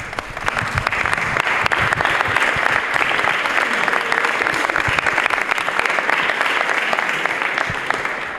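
Loud, sustained applause from a festival crowd at a San Sebastián celebration in Palma del Río, with thick, close clapping that continues without a break for over eight seconds.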